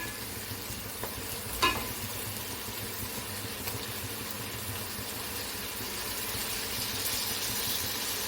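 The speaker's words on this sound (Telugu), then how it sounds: "చేప ముక్కలు మంచిగా నూనెలో మగ్గాలి, మగ్గితే బాగుంటుంది." Fish pieces fry in oil for a spicy fish stew, sending up a continuous hissing sizzle near the pan that holds steady throughout, with one brief clink early and no speech.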